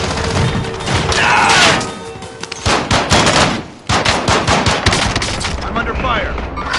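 Gunfire in the Warzone video game: rapid machine-gun bursts and single loud shots crackle close by in dense, uneven volleys, broken by a brief lull before firing resumes.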